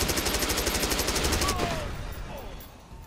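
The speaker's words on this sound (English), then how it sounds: "Big shootout going on at the Barrows, Brandon docks." Rapid automatic gunfire rattles in a shootout at the Brandon docks in Watch Dogs, a loud, steady burst of repeating shots that stops after about a second and a half, followed by fainter echoes and a brief voice.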